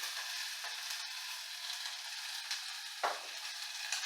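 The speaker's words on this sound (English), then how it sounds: "caramelize the onions and jalapenos you saw me cut earlier, and last of that garlic" Chopped onions, jalapeno and garlic sizzling in hot olive oil in a pan, a soft, steady hiss with a few faint spatters and a brief scrape, no voices.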